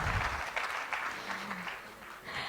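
Audience at a Bangladesh investment event, where the UK Trade Envoy is speaking, breaks into steady applause that fills the room for a couple of seconds.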